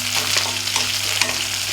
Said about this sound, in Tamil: இப்போ பாருங்கள், வெங்காயம் நல்லா வதங்கிட்டுருக்கு